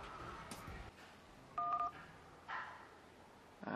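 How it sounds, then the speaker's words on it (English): A Moto G 3rd Gen mobile phone, tested after being submerged in water, sounds a short DTMF dialing tone while placing a call, a clear beep amid faint handling noise and quiet room sound. "Let me try and make a call to Vodafone Care."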